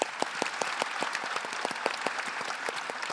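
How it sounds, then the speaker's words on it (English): An audience gives a round of applause for Senator Warner at an economic innovation event, a dense, even patter of many hands clapping at a moderate distance for the whole stretch, with no voices over it. "I think we should all give him another round of applause"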